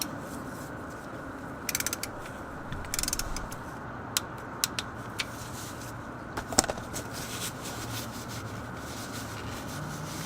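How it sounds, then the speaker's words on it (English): A torque wrench tightens the oil drain plug on a Lexus LX570 to a set torque. Brief faint clicks and ratcheting come in a few short bursts over a steady background hiss. "grab your torque wrench, set it to 9 foot-pounds, and go ahead and torque that down"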